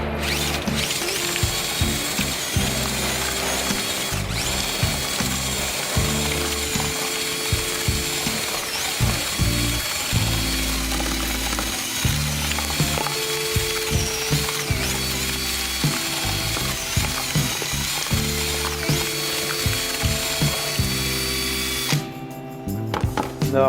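Power drill with a mixing paddle churning FUGA-PAVE Flex CH landscaping grout in a bucket, a loud continuous close-up whir with rattling, ratchet-like variations, stopping near the end.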